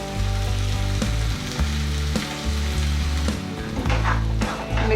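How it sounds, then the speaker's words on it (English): Tomato paste frying in a pan over a low flame for a bhindi do pyaza, a steady close sizzle with soft stirring clicks, alone over a low tonal hum. "we'll be adding our tomato paste to it."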